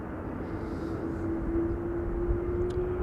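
A Saudia Cargo plane, a 747 freighter, taxis at Amsterdam Schiphol Airport. Its engines make a steady droning hum with a thin whine slowly rising, heard from a distance over constant low rumble.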